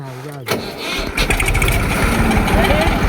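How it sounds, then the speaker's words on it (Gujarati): After a brief voice, a tractor engine cranks and catches, then settles into a loud, close, rumbling chug. "અવાજ બહુ ગમે ટ્રેક્ટરનો"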